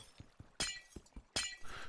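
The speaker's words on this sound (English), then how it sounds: "So we'll start by removing this glass here" A glass block breaks in Minecraft as two sharp shattering crashes, each following a run of soft tapping hits, close and fairly quiet.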